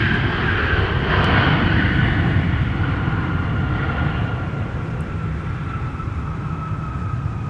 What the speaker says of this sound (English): Perfect timing, Alex, for our Sun Country arrival